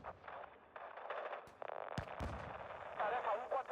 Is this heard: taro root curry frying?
no